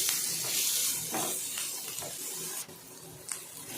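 Onions fry in hot oil with a steady, close hiss, broken by a few soft stirring scrapes.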